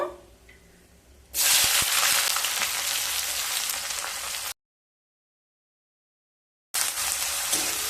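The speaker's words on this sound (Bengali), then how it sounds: "পেঁয়াজ দিয়ে একটু নেড়ে নিলাম।" Chopped onions hit hot oil spiced with panch phoron and burst into a loud, broad sizzle, stirred now and then; a quiet lead-in before the hiss, then a silent break and the frying resumes.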